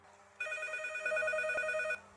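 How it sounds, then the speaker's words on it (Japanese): A telephone rings in a comedy impression skit, a steady electronic ringing tone with a shrill trill that runs for about a second and a half, clear and alone with no talk. "さてと、浜ちゃんに電話でもしてみますかね。"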